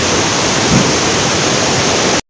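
A full waterfall beside a bridge in Eloxochitlán, Oaxaca, during the rainy season, heard up close as a loud, unbroken roar of rushing water that cuts off abruptly near the end.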